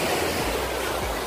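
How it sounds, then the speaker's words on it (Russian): Ocean waves wash onto a beach on the Portuguese coast, a loud, continuous roar of surf with low rumbling swells and no voices. "здесь океан"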